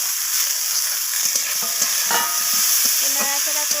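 Spices frying with eggplant, green chilies and chopped coriander leaves sizzle steadily in a pan, with repeated scraping and tapping of a stirring spoon close by.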